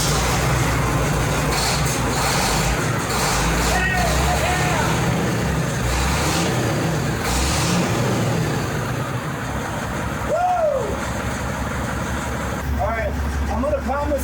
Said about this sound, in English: I love the sound of this truck.